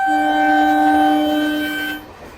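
A local train bound for Sealdah sounds its horn in one loud, close, steady blast of about two seconds before cutting off abruptly.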